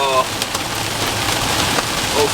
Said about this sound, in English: loud cracks that sound like rocks hitting the windshield, I have a feeling that's actually hail